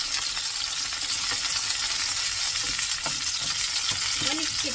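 Hilsa fish fry in hot oil beside frying eggplant, with a continuous close sizzle, wet water-driven spattering and sharp crackling pops throughout and no speech.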